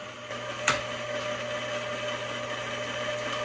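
Electric mixer steadily whirring through chocolate chip cookie dough in a home kitchen, a constant motor drone with a single sharp knock near the start, no talking.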